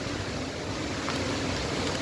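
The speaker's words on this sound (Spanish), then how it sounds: "Pues después de más de 15 minutos de tierra llegó el agua" Rain arrives after a dust storm in Torreón, Coahuila, wetting the pavement: a steady, even hiss of falling water with a low rumble beneath, constant throughout and close by.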